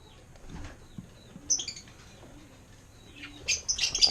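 Pet African lovebirds flap their wings inside a nest box, giving soft fluttering bursts close by, along with several sharp chirps and squawks toward the end.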